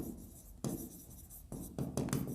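Pen scratching across paper while writing out an accounts problem, close and steady strokes in short bursts with brief pauses between.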